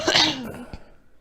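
A single short cough bursts out close to the microphone during a casual podcast conversation, sharp at the onset and trailing off within about a second.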